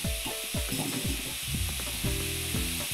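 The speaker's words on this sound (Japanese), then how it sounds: "さっと炒めて、ここにシーフードミックスを入れます。 で、ここでしっかり炒めてください。" Seafood mix stir-fries in a hot pan with a loud, steady sizzle and repeated scraping strokes of a spatula, close and without talk.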